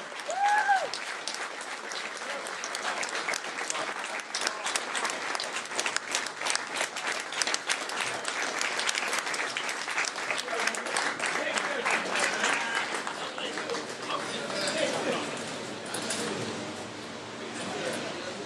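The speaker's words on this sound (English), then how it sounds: "bring him on with a Los Angeles area rousing round of applause" A rousing round of applause fills a mosque as a speaker is brought to the microphone, sustained dense clapping from a large gathering that rolls on steadily before easing slightly near the end.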